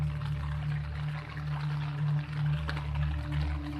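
Floodwater after heavy rain running through a Karachi street over a speed breaker, a steady loud rushing wash with a low hum beneath and no speech.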